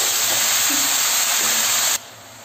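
Beetroot pieces frying with onions in a pan, a steady loud hiss of steam and sizzle running for about two seconds before dropping abruptly to a quieter background, with no voices.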